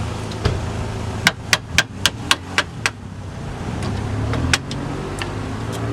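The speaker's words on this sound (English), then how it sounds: "Now there's the horseshoe retaining clip. You have to take this thing off and able to free the brake line." Metal clicks and light taps from prying the horseshoe retaining clip off the rear brake line of a 1998 Toyota Corolla, a quick run of about seven sharp ticks close by over a low hum, then one more later.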